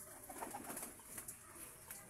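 Pigeons kept as pets coo faintly and at some distance in several soft, rounded bursts. The sound is low and quiet, with no voices over it.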